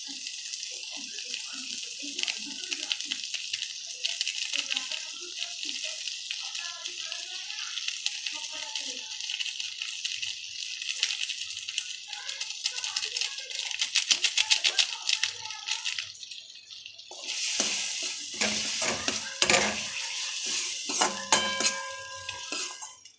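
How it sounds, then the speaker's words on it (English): Maggi masala being stirred into noodles in a pan: a steady, close scraping and sizzling hiss that runs throughout and grows louder and rougher in the last few seconds. "Stir this masala in meanwhile, and now I'm gonna put in the Maggi masala from the Maggi packet."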